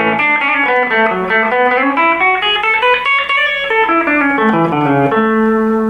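A rock guitar lick built on a major scale, played as a continuous melodic line of single notes with a light effects tone. It is loud and close, with no talking.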